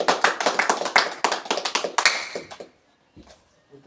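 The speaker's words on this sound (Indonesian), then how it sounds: "Apresiasinya kita tepuk tangan" A small group of about seven people claps together in appreciation at a community event, a brisk run of sharp, close claps that stops abruptly and leaves near silence with a faint knock or two.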